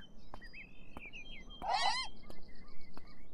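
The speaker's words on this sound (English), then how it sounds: "There's seagulls over here we can't get past because it makes like loud noises whenever she go towards." Seagulls cry in the video game Beyond Eyes, a short burst of harsh bird calls in the middle over faint ambient game sound with a few clicks and tones.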